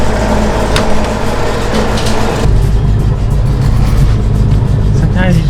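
Nissan 180SX engine catching and revving, a steady loud low rumble with a rise partway through, under a person's voice speaking nearby.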